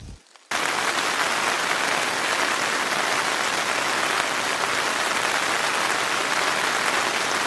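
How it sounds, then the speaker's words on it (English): Heavy rain pours steadily in the woods near a fall hot tent campsite, a dense close hiss that starts suddenly and continues without a break. "I haven't seen rain like this in months."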